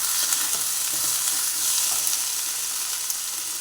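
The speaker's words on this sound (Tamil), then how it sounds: "1 ஸ்பூனுக்கு வந்து இஞ்சி பேஸ்ட்டு, 1 ஸ்பூனுக்கு வந்து பூண்டு பேஸ்ட்டு. ஸோ இதை சேர்த்துட்டு கொஞ்சம் வதக்குங்க." Ginger paste and garlic paste sautéing in a pan for a mutton liver pepper fry, giving a steady, close hiss of frying oil with faint stirring throughout and no voices.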